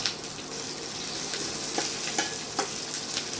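Julienned ginger and garlic frying in hot oil, a steady broadband sizzle with occasional stirring clicks, close and continuous with no voices.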